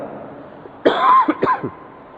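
A feverish person coughs twice in close succession, a short harsh burst followed by a second hoarse cough, close and fairly loud against a quiet room.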